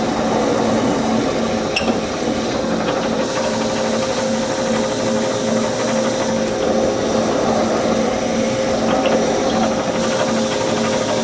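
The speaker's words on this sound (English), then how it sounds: "then we're going to go ahead and cut the recess for the insert" A steady, close whirring hiss of a tool cutting the recess for a TimeSert thread insert on a Fiat 124, continuous and unbroken for the whole stretch.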